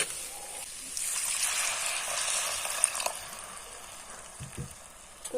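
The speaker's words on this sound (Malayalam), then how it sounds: "നമുക്ക് വെള്ളം ഒഴിച്ച് വേഗം എടുക്കാം" Water pours into a pan of Kerala-style cashew curry with coconut bits, a sharp hissing rush for about two seconds that then fades to a soft, quieter simmer.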